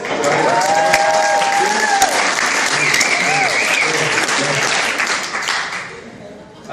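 An audience at a zoo and aquarium conference closing session applauds loudly and continuously, with cheers and whoops mixed into the dense clapping before it tapers off.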